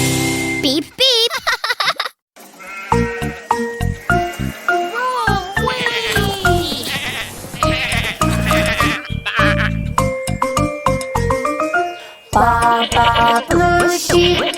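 Cartoon sheep bleats from the Tux Paint drawing program, a run of loud, wavering baas mixed with jingly tinkling effects and bright tones, filling the stretch with little pause.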